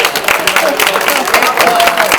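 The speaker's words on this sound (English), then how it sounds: "Give yourselves a round of applause." Audience at an HR Indiana conference session applauds together in a steady, dense clapping wash, loud and close, with voices mixed in over the sound.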